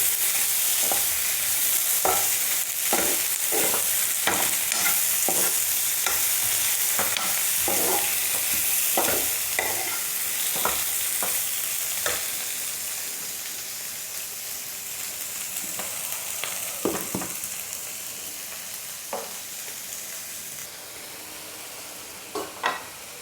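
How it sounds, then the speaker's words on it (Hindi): Potatoes sizzle in a pan with chaat masala and salt while being stirred, regular scraping strokes of the spatula tapping over a constant frying hiss that fades somewhat toward the end; no one speaks. "इसमें आधी चम्मच डाल देंगे चाट मसाला और थोड़ा सा नमक डाल देंगे और इसको थोड़ा सा भून लेंगे इस तरह से।"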